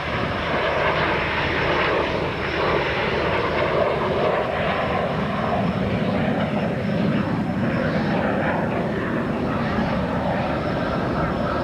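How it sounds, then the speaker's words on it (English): A Canadair T-33 jet makes a slow-speed pass with gear and flaps down at a 1993 airshow in Chatham, Ontario, its steady, sustained engine roar filling the air while someone talks over it. "Here we go through with the slow speed pass."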